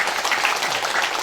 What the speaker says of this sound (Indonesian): Kita boleh tepuk tangan.